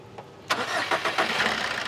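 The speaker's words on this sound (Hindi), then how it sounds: "ठीक है, अब ये गाड़ी चालू है।" A car engine cranks and catches at about half a second, then settles into a steady idle, close and fairly loud, during ECM sensor, relay and wiring checks in a workshop.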